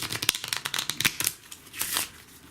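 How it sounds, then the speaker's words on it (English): A deck of playing cards being shuffled up close, a quick series of crisp riffling flutters and snaps that end in a softer, longer riffle. "let's give the cards a couple of shuffles before we get into the trick"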